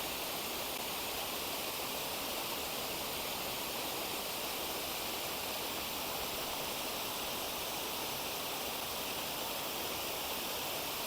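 A waterfall rushing steadily beside a fishing spot, a constant broadband hiss of falling water with no breaks or variation, heard alone without voices.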